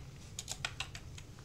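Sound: clicking keys and mouse on a computer in AutoCAD

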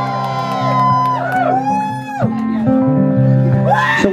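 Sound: crowd screaming and cheering at a concert

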